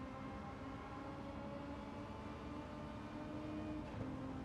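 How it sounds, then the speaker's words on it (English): Steady, faint car engine drone from a Gran Turismo 7 race on the Tokyo Expressway, a continuous smooth hum with no talking. "And these engine sounds are really good."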